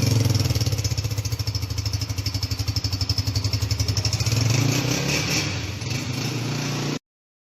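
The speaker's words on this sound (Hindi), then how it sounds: "न्यू बाइक का साउंड सुन लेते हैं।" A new Honda 125 motorcycle engine runs close by with a steady, rapid putter and mechanical clatter, holding an even idle for several seconds before cutting off abruptly.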